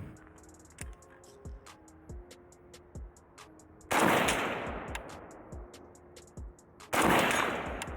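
Pioneer Arms 5.56 AK underfolder rifle fired at an outdoor range: two loud, sharp shots a few seconds apart, each trailing off in a long echo, with faint ticking and clinking sounds between them.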